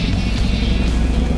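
Boat engine revving up under throttle in a racing video game, a loud, close, dense motor roar with a rising tone across a short burst, no talk.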